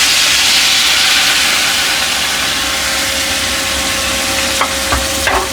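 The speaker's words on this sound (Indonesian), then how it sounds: "sekarang aku mau tumis bumbu yang tadi udah aku halusin ya teman-teman" Ground spice paste for Makassar toppa lada sizzles steadily in a hot pan, a loud, continuous hiss with a few sharp spoon clicks near the end.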